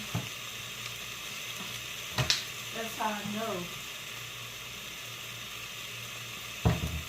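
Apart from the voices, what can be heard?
fish steaks sizzling in a pan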